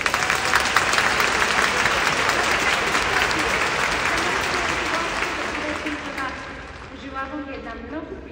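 Enthusiastic applause from a concert audience at a show in Sofia, a dense, loud wash of many hands clapping that fades gradually toward the end, with a voice starting to speak over the final seconds.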